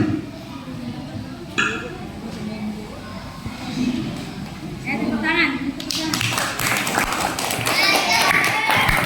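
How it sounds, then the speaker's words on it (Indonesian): A class of children applauding in a fourth-grade classroom; scattered taps and claps build into a dense burst of rapid clapping at the end, with children's voices and a teacher speaking throughout. "Tepuk tangan."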